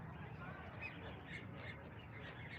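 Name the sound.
ducks quacking while being fed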